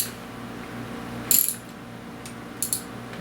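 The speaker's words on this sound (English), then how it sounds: "we're going to take our ratchet" A ratchet tightens a part on a 1988 Miyata Valley Runner all-terrain bicycle, giving two short bursts of rapid clicking close by against a quiet background.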